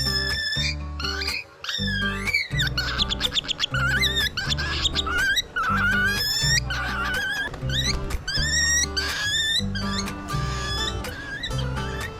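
A pet cockatiel flying free outdoors chirps and whistles loudly and repeatedly in quick bright bursts, close up, over a steady rhythmic backing of music.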